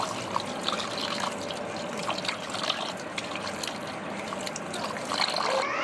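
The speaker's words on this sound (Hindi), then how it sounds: "अब इन करेलों को धो लेते हैं, फिर निचोड़ लेंगे इसे।" Tap water runs steadily into a sink while bitter gourds are washed in a kitchen, a continuous close splashing trickle with faint handling clatter and no talking.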